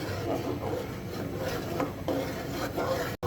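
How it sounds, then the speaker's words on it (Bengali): Pineapple jelly mixture stirred in a pan, continuous soft scraping and rubbing of a spoon against the pan bottom, fairly quiet and close, with no talk. "এই জন্য আমি একদম দাঁড়িয়ে থেকে যত্ন সহকারে এভাবে নেড়ে চেড়ে নিচ্ছি"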